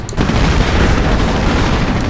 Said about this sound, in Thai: ปืนใหญ่สนับสนุน พร้อม สามลำยิงไปแล้วครับสามลูก